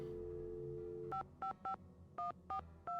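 A steady tone ends, then six short electronic keypad beeps sound in quick succession, clear and close, like a phone being dialed.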